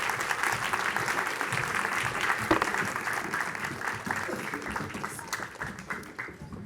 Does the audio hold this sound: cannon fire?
no